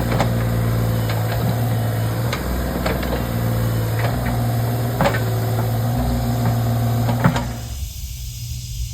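A tracked earthmoving machine packs pure clay into a leak in a 1960 pond dam, its engine droning steadily with intermittent clanks and knocks, then dropping away near the end.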